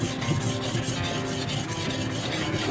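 A machete blade is drawn over a whetstone in a steady rhythmic scraping, rasping strokes repeating evenly, close and fairly loud with no talk.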